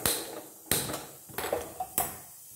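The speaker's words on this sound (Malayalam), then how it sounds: "നമുക്ക് സ്റ്റൗവിലേക്ക് വെച്ചു." A cooking pot is set down on a kitchen stove, giving four or five sharp metallic clunks and knocks spaced across a couple of seconds, close by and with no voices.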